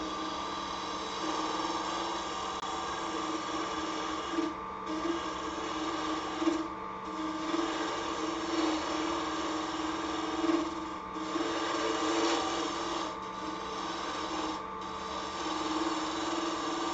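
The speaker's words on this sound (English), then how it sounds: "I'm glad the lathe is sounding better as well" A wood lathe turning a segmented vessel, a steady faint mechanical whir with a constant hum and periodic soft dips and scrapes, heard alone without talk.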